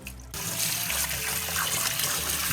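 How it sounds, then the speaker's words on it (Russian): Rice being rinsed with water for plov: after a short quiet moment, running water splashes and trickles continuously, fairly close and steady. "Сейчас промоем рис."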